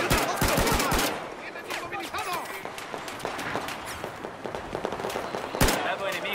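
Pistol gunfire in the shooter game Battlefield 4, a quick burst of several sharp shots at the start followed by scattered distant pops, with someone talking over much of it.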